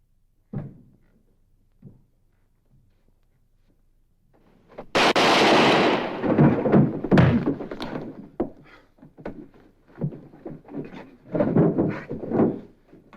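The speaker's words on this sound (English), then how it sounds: "He got off the first shot, but he missed." A single loud gunshot bursts out in a TV western standoff, sharp and close, followed by a rumbling tail and scattered thuds and clatter; no one speaks during it.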